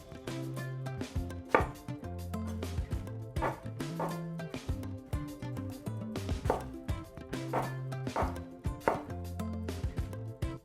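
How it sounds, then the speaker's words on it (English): Knife chopping on a cutting board as white onion and roma tomatoes are roughly diced, steady repeated thuds in a regular rhythm over background music, close and clear. "roughly dice a quarter of a medium white onion. And do the same with 2 roma tomatoes."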